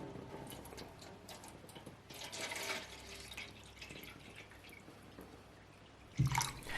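Gun parts sit boiling in a pot of water to remove rust, giving off faint, soft bubbling and dripping, with one brief louder clunk near the end.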